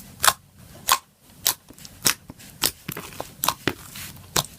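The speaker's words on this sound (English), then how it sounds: "It's an aqua clicky slime with some white micro foam beads" Aqua clicky slime with white micro foam beads and gold glitter being squeezed and worked by hand, giving close, crisp popping clicks in an irregular rhythm, about a dozen sharp snaps with softer crackles between.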